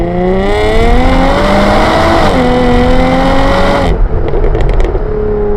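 Tuned Jaguar F-Type V6 with a Stage 4 tune pulling hard in second gear from a stop, engine note climbing steadily and loudly, then a brief shift-like dip near the end with exhaust crackle.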